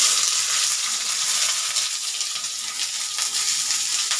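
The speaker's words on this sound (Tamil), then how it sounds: "இப்போ ஃப்ரை பண்ணிக்கலாம்." Three cut onions frying in hot oil in a pan for a paneer gravy, a steady bright sizzle that holds evenly throughout with no talking.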